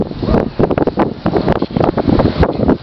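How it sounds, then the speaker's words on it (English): Gusty wind buffets the microphone in loud, uneven rumbling bursts, with no one speaking. "hopefully it won't be as windy like it is now"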